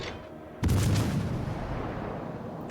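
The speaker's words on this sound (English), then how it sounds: "I'm going to keep shooting at this destroyer even though we can't see him" Naval guns firing in World of Warships Legends as a ship shoots at a destroyer: one sudden loud boom, followed by a long rumbling roll of gunfire and blast noise that stays heavy and slowly fades across the rest of the moment.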